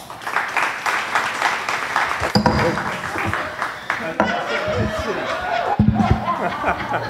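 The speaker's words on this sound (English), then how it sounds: "Let's give Jeff Vaughn a round of applause." An audience at a live talk show applauds a guest, with scattered clapping, chuckles and chatter mixed with a man's speech, moderately loud with uneven bursts.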